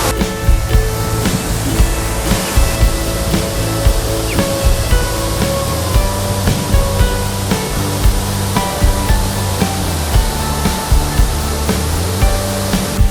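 Virgin Waterfall at Manyueyuan Forest Recreation Area roars loud and continuous, a dense broadband rush of falling water close by, with no speech.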